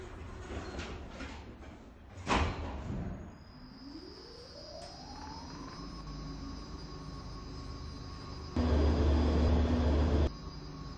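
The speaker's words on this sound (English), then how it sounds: "Doors closing." Elevator doors slide shut in a lift, with a rising mechanical whine from the door motor and a steady tone, followed by a loud burst of noise near the end.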